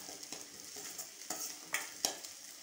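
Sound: onions being sautéed in a pan until golden brown

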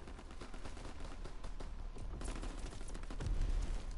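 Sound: gunfire in a WW2 battle

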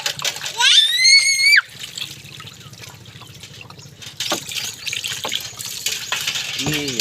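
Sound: child rinsing dishes under running tap water

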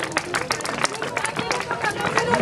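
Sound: crowd applauding

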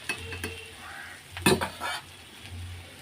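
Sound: potatoes frying with bay leaf and cumin

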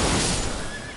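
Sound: horse neighing in video game Elden Ring

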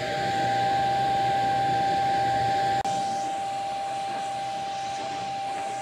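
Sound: car vacuum cleaner with small attachment running

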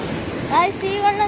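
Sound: water flowing at a waterfall after rain

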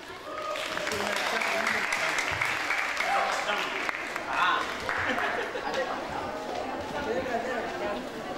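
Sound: audience applause after a dance performance

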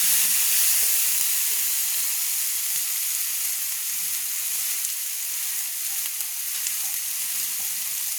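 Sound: spice paste being stirred and fried in a pan

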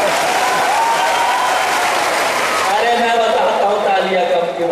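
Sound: applause at airport foundation ceremony

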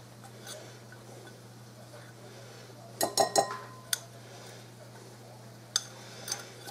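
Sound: mixing butter and flour in a bowl

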